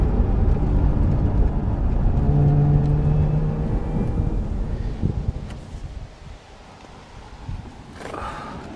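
Lotus sports car engine held high near its red line, a sustained strong roar that fades toward the end with a brief burst near the close, without talk.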